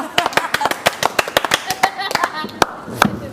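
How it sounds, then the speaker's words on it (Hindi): A few people clapping for someone at a lively gathering, crisp irregular claps close by, loose and uneven, with voices talking between them. "आपके लिए तालियां"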